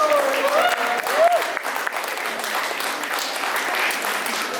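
An audience at a Gujarati Diwali cultural show in Garching Hall, Munich, gives a stage performer a sustained round of applause, steady, dense clapping throughout, with a voice briefly heard over it at the start.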